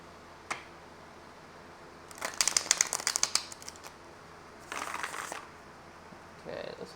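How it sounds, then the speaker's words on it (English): Tarot cards are riffled and shuffled close by in two crisp flurries of snapping, flicking card edges, with a soft tap at the start and quiet rustling at the end. "Let's get one more shuffle in there."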